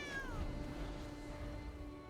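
A cat meows once in a video game card draft, a short, clear, tonal cry that slides downward and then gives way to a sustained musical tone.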